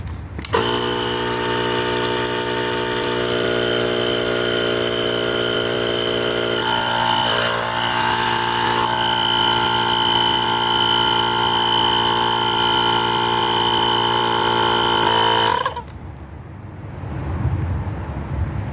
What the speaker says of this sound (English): I'm just going to use this compressor. Let's fill it up.